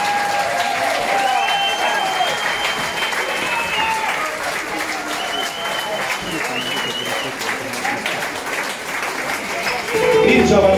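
A club audience applauds a Romanian singer with sustained, dense clapping and some cheering, steady and loud from start to finish, swelling slightly at the end.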